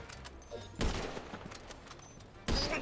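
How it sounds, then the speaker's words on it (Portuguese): Gunfire in the video game GTA 5 during a gang shootout, with two loud broadband bursts standing out over a steady backdrop of softer shots and game noise. "Tem muita gente me atirando."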